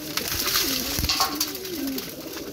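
A recovering female pigeon cooing softly at close range in the evening, with light pecking and rustling as she picks up grain in quick bites.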